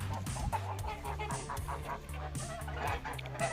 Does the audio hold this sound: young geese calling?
yes